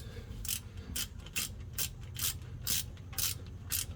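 A ratchet tightens the front differential plug on a Ram 1500 in a quick run of about eight crisp, evenly spaced clicking bursts. The sound is close and clear, with no voices.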